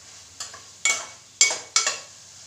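Fiddlehead fern sabzi (dhekia saag) stirred in a pan, four short scraping sizzles as the spoon sweeps through the frying greens, close and fairly quiet.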